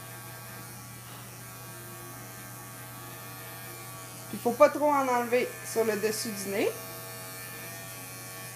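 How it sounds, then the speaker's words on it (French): An electric razor trims hair around the face and the top of the nose, giving a low, steady hum throughout while a person speaks French over it. "Je l'ai fait toujours au rasoir."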